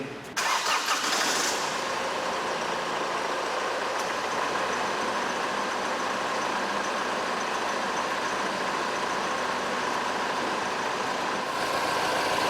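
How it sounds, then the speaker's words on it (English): Air conditioning compressor and radiator cooling fans of a 2007-2011 Honda CR-V running steadily under the bonnet, a continuous broad whooshing hum close by with no talk. "Got our cooling fans are running down there. Compressor running nicely."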